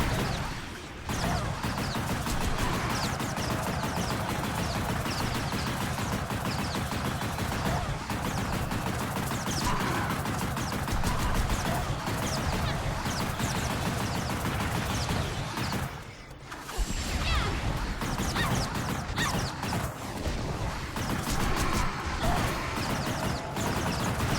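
Rapid fire attacks rain down in the X-Blades video game, a dense, continuous barrage of loud gunfire-like bursts with a brief lull partway through before the onslaught resumes.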